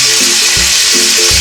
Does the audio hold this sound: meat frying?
yes